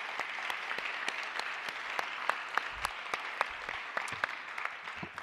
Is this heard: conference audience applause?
yes